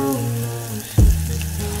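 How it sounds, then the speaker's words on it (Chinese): Shrimp paste frying shrimp-side down in a thin layer of oil in a pan: a steady sizzle throughout, with a brief louder thump near the middle as the paste settles into the pan. "锅底层薄油，虾滑的那面向下先煎至定型"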